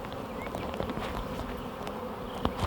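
A good-sized honeybee swarm drifts into a box, a steady close buzzing hum of many wings with no pauses and occasional louder passes of individual bees.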